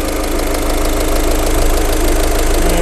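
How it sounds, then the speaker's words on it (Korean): A Volkswagen Polo 1.6 TDI diesel engine idles loudly and evenly up close, a steady rumble with a faint rhythmic knock and no voices. "엔진 소리 역시도 매우 일정합니다"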